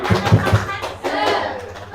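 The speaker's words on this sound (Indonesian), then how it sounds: "Tepuk semangat" A group performs an Indonesian rhythmic spirit clap at a school session on positive culture: a few sharp, evenly spaced claps, then looser clapping mixed with laughter and voices.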